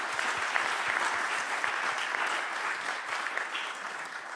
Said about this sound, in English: please give an applause to everybody who participated helping to make this conference